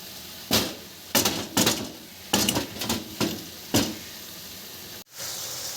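Garlic and onion cook in a pan for menudo, a soft sizzle broken by several sharp clanks of a utensil against the metal pan as it is stirred, close by and without talk.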